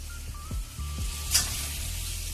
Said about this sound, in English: And my mama is cooking something.